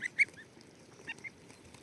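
Geese grazing along a grassy roadside give a few short, faint honks, two quick calls near the start and a couple more later, alone over quiet outdoor background.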